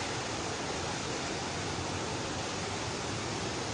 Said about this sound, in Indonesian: Dari kejauhan sudah terdengar gemuruhnya ya, memang mirip waterfall, mirip air terjun gitu.